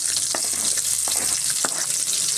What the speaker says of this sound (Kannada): ಈರುಳ್ಳಿ ಹಾಕ್ಕೊಂಡು ಸ್ವಲ್ಪ ಚೆನ್ನಾಗಿ ಫ್ರೈ ಮಾಡ್ಕೊಳ್ಳೋಣ